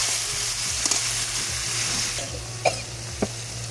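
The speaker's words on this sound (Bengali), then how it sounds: "তো দই দিয়ে একটু কষিয়ে নিই।" Fish curry frying in a pan after whisked yogurt is added, with a steady, loud sizzle and a few faint clinks of stirring throughout.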